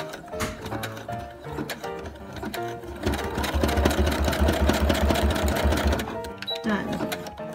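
A sewing machine runs in a steady, rapid stitching rhythm as it sews a seam on a handmade lunch bag built from Capri Sun pouches, close and loud, then stops and restarts briefly near the end.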